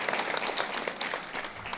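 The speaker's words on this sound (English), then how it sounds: "one last round of applause for Beth" A brief burst of audience applause for a performer at a library reading event, dense close clapping holding steady throughout.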